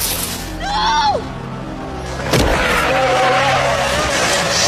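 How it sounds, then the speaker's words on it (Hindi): Cars and traffic rush along a road beneath a bridge in a film scene, a squealing tire sweep early on, then a sharp crash-like burst and a steady, loud wash of passing vehicles. "दो लड़के एक पुतले को उठाकर एक पुल पर लाते हैं जिसके नीचे लगातार गाड़ियां दौड़ रही हैं।"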